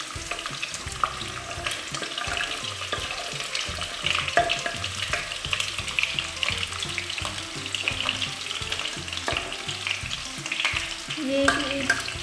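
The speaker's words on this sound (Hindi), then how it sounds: "ये वेजिटेबल्स जो हैं इसको हम थोड़ा सा लाइट फ्राई कर लेंगे" Vegetables for chicken jalfrezi fry lightly in oil, a continuous close sizzle broken by frequent stirring scrapes and clinks of a utensil against the pan.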